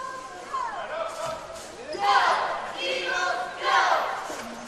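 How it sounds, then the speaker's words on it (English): Basketball gym crowd during a men's college game, with a murmur of many voices and a few louder cheering swells rising around the court while a voice speaks over them. "Crowd filing in."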